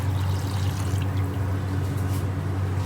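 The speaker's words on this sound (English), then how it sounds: "I'm going to add some water now." Water being poured into a cooking pot holding a large bone-in lamb leg, a steady close pouring rush with low gurgling that runs continuously with no pause.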